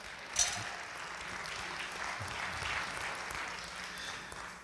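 Church congregation clapping hands in praise, a steady broadband wash of applause sustained throughout, with one sharper burst near the start and a faint voice beneath.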